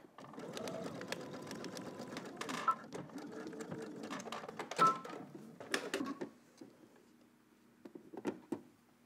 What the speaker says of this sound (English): So I'm gonna stitch it down and then trim off the extra.